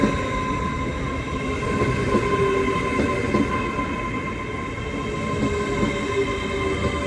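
A Class 800 IET train rolls past at Slough on the Great Western Main Line, a sustained rumble of wheels with faint squeal and clatter, fairly close and steady.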